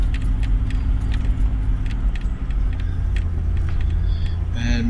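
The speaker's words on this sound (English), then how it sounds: "And we've got some traffic coming the other way." An oncoming vehicle approaches on a rocky bush track in rain, heard from inside a moving four-wheel drive as a steady low engine rumble with rattling and jangling cabin noise and brief clicks.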